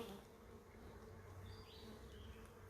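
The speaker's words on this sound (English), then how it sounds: "I had bees swarming out everywhere" Honey bees from a 3 lb package buzzing as they swarm out, a steady low drone with occasional closer wingbeat passes, fairly faint and without talk.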